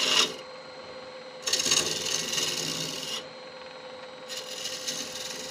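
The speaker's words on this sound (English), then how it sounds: "It's a typical carbide cut" A carbide wood turning tool cuts into spinning wood on a lathe, giving two long bursts of dry rasping scrape separated by quieter stretches, close and steady with no talk.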